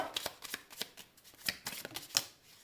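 Lenormand cards being shuffled for a tarot reading: a quiet run of quick papery riffles and flicks, close to the listener, with no one speaking.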